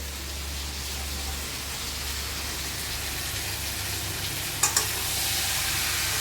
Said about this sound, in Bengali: সব কিছু দিয়ে কষে নিচ্ছে।